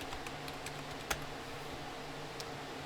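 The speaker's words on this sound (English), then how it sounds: "Fat fingers on the keyboard." Soft, sparse clicks of keys being tapped on a computer keyboard while logging into a Linux virtual machine, quiet and irregular over a faint steady background hum.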